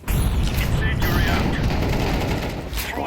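Dense, continuous gunfire from bots in a video game fills the whole stretch, loud and close, with a steady clatter of shots and no clear pauses.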